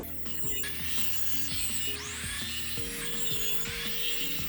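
Scrap material being cut for DIY wall decor with a power saw or cutting tool, a steady whining, grinding cut with shifting pitch running throughout, loud and close, without talking.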